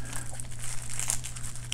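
Crinkly plastic packaging around a brass Yale padlock bought on eBay is handled and pulled at, giving continuous close crackling over a steady low hum.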